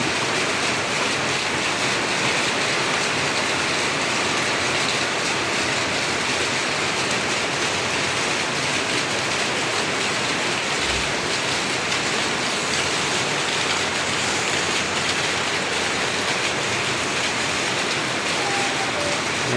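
Heavy rain pours down in a dense, unbroken hiss, loud and close, with no other sounds breaking through.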